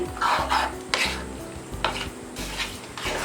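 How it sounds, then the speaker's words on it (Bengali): Beef for kala bhuna being stirred in a pan after another cooked mixture is poured in, with repeated scraping and clanking of a spoon against the metal pan over a steady sizzle, close and fairly loud. "এবার আমি মিশিয়ে দিচ্ছি মাংসটার সাথে।"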